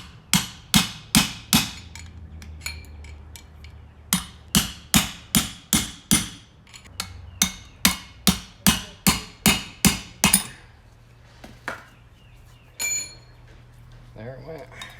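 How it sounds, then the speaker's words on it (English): A big punch is struck repeatedly with a hammer to drive out the bearing race from a 2500HD rear axle hub, giving about twenty sharp ringing metallic blows in steady bursts, with a few lighter taps near the end. "Take another big punch and a hammer."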